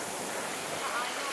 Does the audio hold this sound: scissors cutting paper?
no